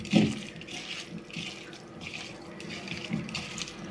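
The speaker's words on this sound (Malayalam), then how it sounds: "ഇതിൽ പുളിവെള്ളം ഒഴിച്ച് കൊടുത്തിട്ട്" Tamarind water pours into a dish, a soft continuous trickle and splash at close range with no talking.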